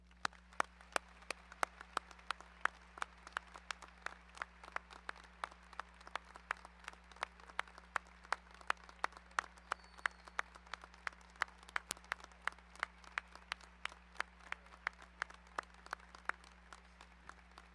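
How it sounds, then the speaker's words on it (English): Steady audience applause at a 2018 high school graduation ceremony, many hands clapping in a dense, even patter that holds for the whole stretch without a break. "with a warm round of applause"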